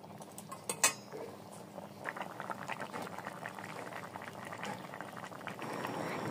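Egg curry bubbling in a pot, a soft continuous simmer of popping bubbles with a couple of faint clinks early on, quiet and alone.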